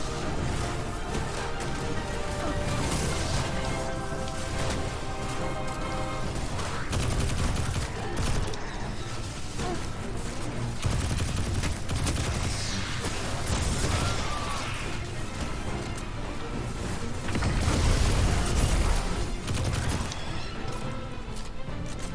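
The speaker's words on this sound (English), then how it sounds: "Stop shooting me." Dense, continuous gunfire and explosions from the Destiny 2 video game roar without pause for over twenty seconds, with overlapping shots and crashes and little quiet between them.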